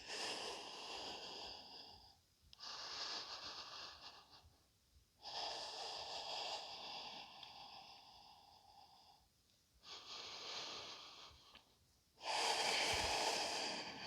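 Slow, deep breaths during a yoga session, heard as long airy inhales and exhales in a steady rhythm, each lasting a couple of seconds and separated by brief pauses.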